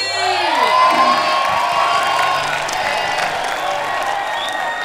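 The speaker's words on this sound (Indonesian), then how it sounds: "Tepuk tangan buat Pak Haji" A crowd cheers and shouts loudly at a televised Indonesian music show, with children's voices and whoops rising over a steady roar of noise and some scattered clapping that lasts throughout.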